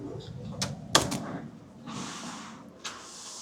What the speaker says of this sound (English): So opening up the front door.